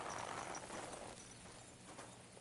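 Horse hooves clopping as a rider gets off a horse in the video game Kingdom Come: Deliverance 2, a short burst of steady, fairly close hoof sounds over a dense ambient bed that eases slightly after the first second.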